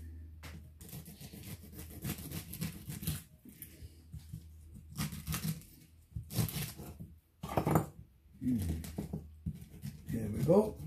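A knife chops a pineapple on a board in scattered, irregular knocks, some louder and sharper near the end, with a person talking throughout.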